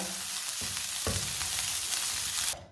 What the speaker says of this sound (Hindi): मसाले को मैंने 2-3 मिनट के लिए भून लिया है